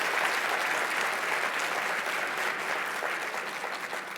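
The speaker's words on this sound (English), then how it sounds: "Let's give another round of applause to all of our winners." A roomful of people applauds award winners at a public service awards luncheon, steady crowd clapping that holds at a moderate, slightly distant level and eases a little toward the end.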